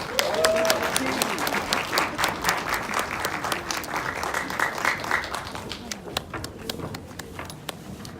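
A crowd at a political party's new-member education event gives sustained applause, with a speaker's voice over the first moments before the clapping continues alone.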